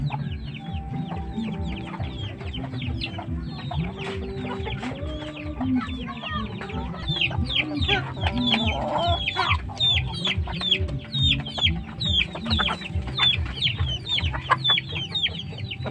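A flock of large Asil Basilan breed chickens clucks continuously and loudly nearby, with overlapping calls and occasional crowing.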